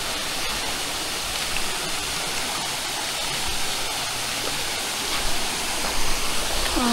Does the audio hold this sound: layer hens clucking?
no